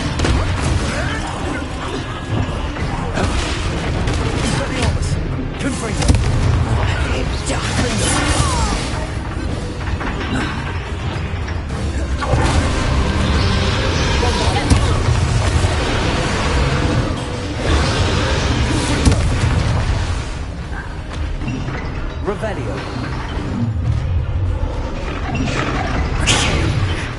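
Confringo spell explosions from the Hogwarts Legacy video game come as dense, loud blasts, crashes and whooshes over continuous game sound, with a voice heard faintly in the mix.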